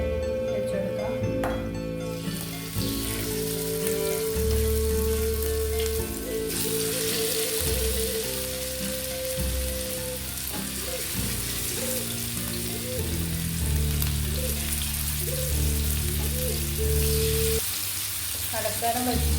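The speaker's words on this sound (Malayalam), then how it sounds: "അപ്പോൾ നമ്മുടെ എണ്ണ ഏകദേശം ചൂടായി വന്നിട്ടുണ്ട്. അപ്പോൾ നമ്മുടെ ചിക്കൻ അതിലേക്ക് വെച്ചു കൊടുക്കാം." Chicken pieces fry in hot oil, giving a steady, loud sizzle and crackle throughout, heard beneath continuous background music.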